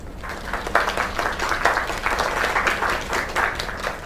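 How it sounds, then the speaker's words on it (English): A video game crowd applauds steadily, dense clapping with a few louder swells, sustained throughout. "Another round of applause."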